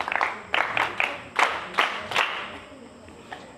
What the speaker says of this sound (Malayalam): എല്ലാവരും ക്ലാപ്പ് കൊടുക്കും.